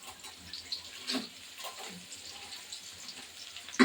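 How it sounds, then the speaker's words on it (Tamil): Noodles being dropped into a pot of hot water for a vegetable noodle dish give faint watery splashes and soft bubbling in a few short bursts, with one sharper splash at the end and no talking. "சுடு தண்ணியில் நூடுல்ஸ் போட்டாச்சு."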